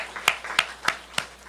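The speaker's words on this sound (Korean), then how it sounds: "우리 재석이 잠깐 일어나고, 우리 크게 박수로 격려하겠습니다" A church congregation at a Sunday service claps in four sharp, evenly spaced bursts, fairly quiet and close, with no talking over it.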